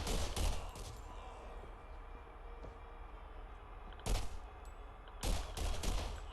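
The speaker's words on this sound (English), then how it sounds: "Alright, so that's how we waste bullets." Gunfire in the video game Borderlands comes in sharp, loud bursts: a quick volley at the start, a short burst midway, then another sustained string of shots, with quieter stretches between.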